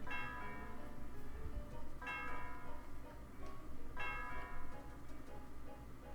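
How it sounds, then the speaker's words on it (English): The Celestial Tower bell in Pokemon White 2 rings in slow, resonant peals about every two seconds, each tone sustaining and overlapping the next in a soft, faintly reverberant chime. "I rang the bell, and the sound of the bell reverberates through the area"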